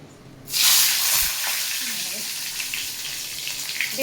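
Eggplant slices dropped into hot oil set off a sudden loud, steady sizzle that starts about half a second in. The hissing stays continuous and close, with faint kitchen clatter underneath.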